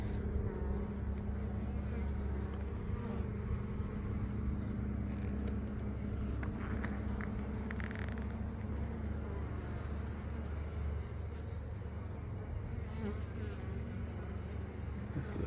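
Honey bees buzz steadily around an open beehive while frames from a second hive are inspected, a dense continuous hum filling the whole stretch with a low background rumble.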